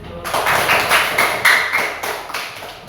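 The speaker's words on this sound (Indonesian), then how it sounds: "aplaus dulu" Classroom applause after student group presentations: a burst of clapping from a class of pupils, a dense crowd of overlapping hand claps sustained for about three seconds at steady moderate loudness.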